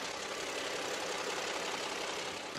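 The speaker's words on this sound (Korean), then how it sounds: "역시 V6 LPI 차량답게 정말 정숙하고 깔끔한 엔진 사운드까지 들려주고 있는 모습이고요" A Hyundai Grandeur HG's V6 LPG engine idles quietly and smoothly under an open hood, a soft steady hum heard up close with no voices.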